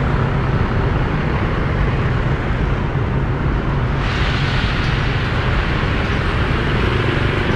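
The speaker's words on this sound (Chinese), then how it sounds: "感觉有点堵车" Rush hour traffic in Vientiane, Laos, a dense continuous roar of engines and road noise close by, steady and loud throughout with a slight brightening halfway through.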